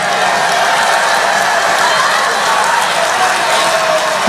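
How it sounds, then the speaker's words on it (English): An audience claps during a speech about flooding in Accra, a steady wash of applause and crowd noise filling the room from start to end, loud and unbroken, with voices mixed in. "But why are they clapping though?"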